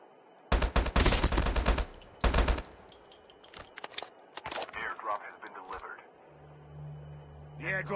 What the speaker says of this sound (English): I am getting sniped at.